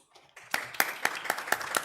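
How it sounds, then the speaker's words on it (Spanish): Audience at an academic symposium on Korean studies clapping in a short burst of about six distinct claps, moderately loud after a quiet start, with no talk over it. "un voto de aplausos para nuestras tres ponentes"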